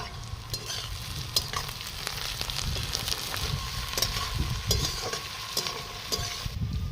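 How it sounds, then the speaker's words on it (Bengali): Green peas frying with lightly browned onions in a wok, a dense continuous sizzle broken by repeated scraping stirs and utensil knocks, close and steady throughout. "পেঁয়াজ হালকা ভাজা হয়ে গেছে, আমি কড়াইশুঁটিগুলো দিয়ে দেবো"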